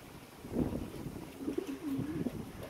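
High flyer pigeons coo in soft, low repeated phrases close by, with a rustling outdoor background and no speech.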